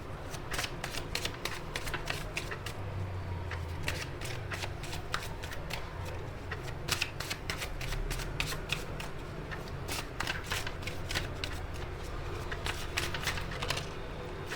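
Tarot cards are shuffled and drawn in a steady run of crisp riffling snaps and flicks, close and fairly loud, with no talking and a low background hum underneath.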